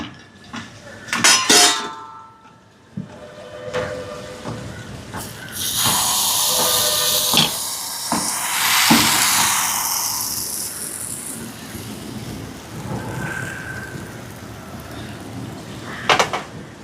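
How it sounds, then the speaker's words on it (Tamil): A hot appam pan with plain appam batter steaming, a broad loud hiss that swells and holds after several sharp metal clanks of the pan being set down, then fades into low rattling with a final clink. "பிளேன் அப்பம் இப்போ அவியட்டும்."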